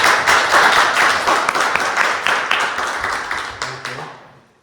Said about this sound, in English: please welcome, and with great warm applause